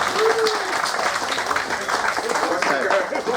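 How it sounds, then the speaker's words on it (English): A crowd applauds at a British Touring Car Championship race weekend at Oulton Park, with a dense, steady patter of clapping throughout and voices talking and calling out over it. "big round of applause"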